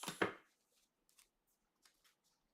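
Tarot cards being shuffled backwards: a brief, dense riffling burst up close at the start, then a few faint, scattered card taps in near silence.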